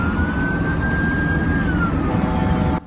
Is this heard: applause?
no